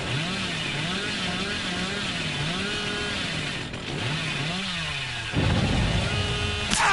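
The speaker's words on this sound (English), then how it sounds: "Why is the chainsaw so loud?" Chainsaw wielded by the killer Billy in a video game, revving loudly and continuously with rising and falling pitch swells, joined by a sharper burst near the end.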